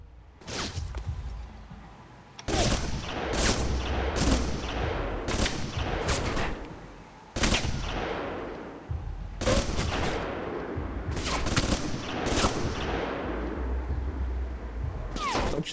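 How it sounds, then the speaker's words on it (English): Heavy machine gun fire in the Alpha Protocol video game: loud bursts of rapid gunfire in repeated volleys, with sharp cracks and rumbling between them and no clear talk. "Don't you see I've got a heavy machine gun?"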